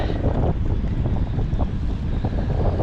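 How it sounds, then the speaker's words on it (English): Strong gusting wind on a Scottish sea loch buffets the microphone, a loud, continuous roar with rough surges and rumbling, and no talk. "But I'm getting absolutely battered by the wind."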